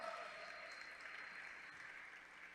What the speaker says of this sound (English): So please give that a big round of applause